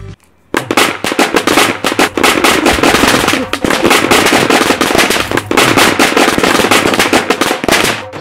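Diwali firecrackers go off in a fast, loud crackling barrage after a brief quiet start, sharp pops overlapping nearly nonstop for several seconds.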